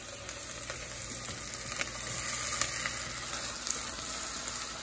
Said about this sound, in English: And you do that by constantly stirring.